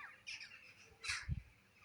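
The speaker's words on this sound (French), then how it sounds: "Voilà, les corbeaux sont là." Crows flying past in the morning, a few faint outdoor caws with one clearer call standing out among quieter ones and a soft low thump.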